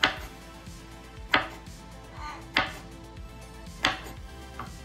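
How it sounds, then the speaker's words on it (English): A knife chops tomatoes on a cutting board with four or five sharp, evenly spaced knocks, close and distinct over a quiet background. "we want to cut them in about 1/2 inch to 3/4 inch"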